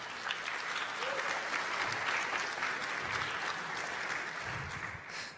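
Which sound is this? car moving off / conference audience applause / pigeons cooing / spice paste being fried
conference audience applause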